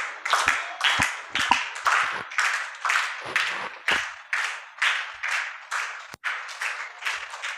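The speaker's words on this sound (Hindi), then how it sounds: "उसके लिए भी हम 3 ताली से क्लैपिंग करेंगे" Children at a summer camp clap together in unison, a long run of sharp, evenly spaced group claps, loud and close, each burst ringing briefly before the next.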